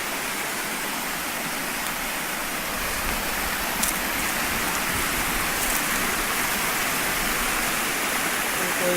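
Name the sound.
Purling Brook Falls waterfall in Springbrook National Park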